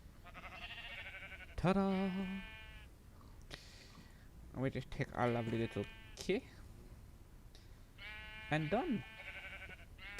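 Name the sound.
sheep bleating in the video game Minecraft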